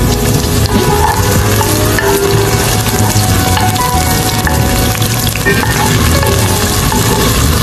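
Curry leaves and onions fry for machboos with shrimp, a loud, dense, steady sizzle with faint stirring scrapes running unbroken throughout, no voices.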